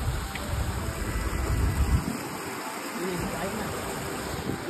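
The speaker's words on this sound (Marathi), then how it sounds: "बघा वरती डोंगरावरून पाणी येते मस्त।" Necklace waterfall in the Bhandardara hills, water pouring down from a distant hilltop, heard as a steady broadband rush of flowing water with wind, continuous and moderately loud, with a brief dip in the low rumble midway.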